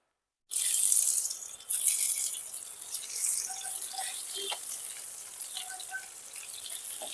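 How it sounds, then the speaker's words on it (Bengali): Prawns frying in mustard oil in a pan over medium flame give off a steady, close hiss that starts abruptly and stays loud, with faint crackles and pops scattered through it. "এবার আস্তে আস্তে আমি উল্টে পাল্টে করে ভেজে নেব"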